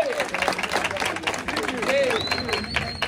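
An audience at a studio's official opening applauds after a traditional blessing, with dense clapping and cheering mixed into crowd babble and a voice over it throughout.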